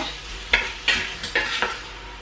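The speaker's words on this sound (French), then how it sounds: "Puis je fais revenir tout ça donc euh, quelques minutes. Juste le temps euh, de colorer en fait l'oignon et la viande." Chopped onion and meat browning in a pan, a steady close sizzle broken by four or five louder scraping stirs spaced roughly evenly across the stretch.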